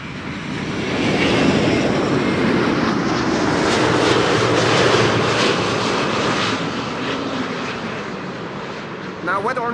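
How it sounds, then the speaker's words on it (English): A business jet on final approach to runway 36 right at Amsterdam Schiphol, its steady engine roar loud and sustained throughout, with a low rumble underneath and a brief squeaky sound near the end. "there's also a bizjet now on final 236 right"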